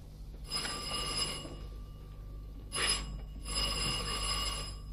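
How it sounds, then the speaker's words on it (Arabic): An old telephone rings in a café in two or three long trilling bursts separated by pauses. The ringing is moderately loud over a steady background hum, with no voices. "رد على التليفون"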